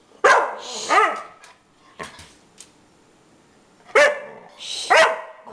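A dog barks in clear bursts, pairs of loud close barks near the start and again near the end with a single sharp yelp between, no talk over them.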